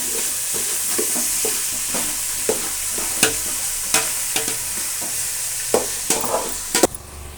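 Onions sautéing in a pan for biryani give a steady frying sizzle, broken by scattered sharp clicks and scrapes of a spoon stirring, with no talking.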